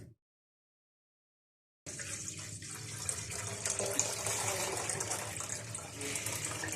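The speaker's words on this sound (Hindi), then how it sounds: "सबसे पहले मैं इसमें डाल रही हूँ दूध।" Milk pouring into a pot as the base for kulfi, a continuous splashing liquid stream starting abruptly after a near-silent opening and running steadily to the end, close and fairly even.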